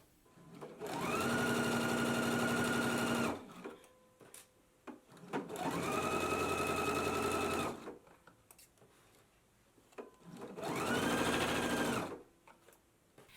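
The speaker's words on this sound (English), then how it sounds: "then we can go ahead and stitch at a 3/8 of an inch seam allowance" A sewing machine stitches a 3/8-inch seam along a jumpsuit sleeve in three steady whirring runs of a few seconds each, separated by quiet pauses, close and fairly soft, with no talk.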